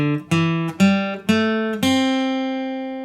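An electric guitar plays a riff slowly, with four plucked notes ringing out one after another and the last left to sustain and fade, clear and alone.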